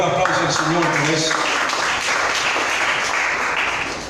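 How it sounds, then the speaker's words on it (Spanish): A church congregation bursts into applause during a sermon, a dense, steady wash of clapping that swells after a brief opening and carries through to the end before easing off slightly. "Se debería darle un mejor aplauso al Señor por eso."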